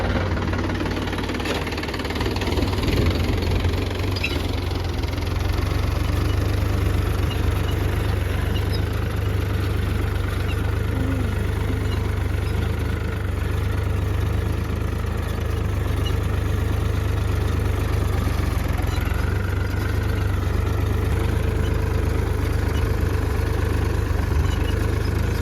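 A tractor engine runs continuously at a steady idle, a loud, close, low diesel drone with a faint knocking vibration throughout and no voices.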